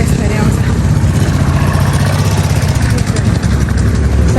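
Motorbikes coming up from behind on a hillside trail through the Gokarna forest during an evening walk, a loud continuous engine drone under people talking.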